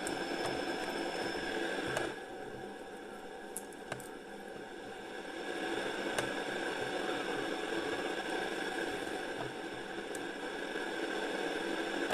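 Truck engine running as the lorry drives slowly at night in minus five degree winter weather, a steady low rumble and drone with faint rattles and a few soft clicks, no talk over it.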